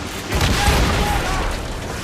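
Ship cannons firing in Assassin's Creed Rogue during a naval battle, a loud, booming broadside with rumbling volleys rolling over about two seconds.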